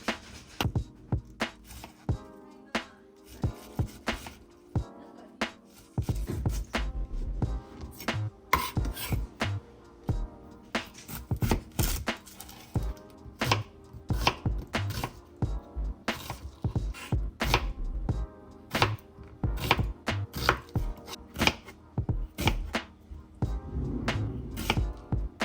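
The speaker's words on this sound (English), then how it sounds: "After you cut every veggie" Vegetables being chopped for homemade Japanese curry, steady knife thuds on a cutting board mixed with clinks of dishes and utensils, close and busy throughout, no talking.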